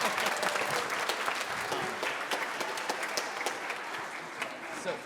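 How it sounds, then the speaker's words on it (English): An audience at a high school spring concert gives a long, full round of applause, dense crowd clapping that holds steady and close, with a few voices mixed in. "Please give them a huge round of applause."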